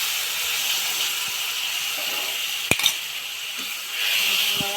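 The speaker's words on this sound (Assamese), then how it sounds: "এতিয়া অকণমান পানী দি দিওঁ" Water poured into hot oil with toasted sesame seeds and a dried chilli gives a steady, close hiss of steam, with a brief metallic clink partway through.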